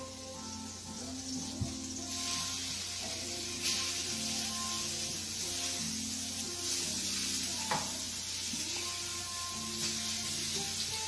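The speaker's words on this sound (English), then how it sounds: "wok and I'm gonna let it sear." Beef sears in a hot wok with a steady, soft sizzle and hiss, joined by a few faint scrapes and light taps, under a background hum and without talk.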